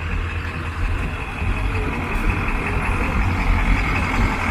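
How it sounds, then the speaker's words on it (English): A big four-wheel drive truck pulls away on a street with light traffic, its steady engine rumble holding close and fairly loud throughout, with a faint tonal beep riding above. "Yeah, this big, that truck's huge."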